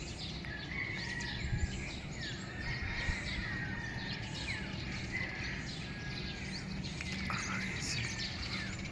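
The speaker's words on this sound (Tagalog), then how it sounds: "Mga ibon ang tumitira dyan. Ang dami oh." Many birds roosting on a tall pole-like structure chirp and call together, a continuous busy chorus of high tweets with steady background noise and occasional nearby sounds.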